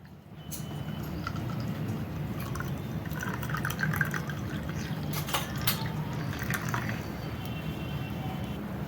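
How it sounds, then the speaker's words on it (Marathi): Soda is poured into a glass of strained cucumber-mint cooler, giving soft close fizzing and trickling with scattered drips and brief brighter splashes, faint and steady throughout. "आता ह्याच्यामध्ये टाकूया सोडा."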